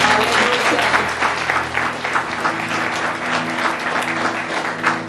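A church congregation applauding loudly, thick sustained clapping from many hands throughout, close and full with a faint murmur of voices beneath.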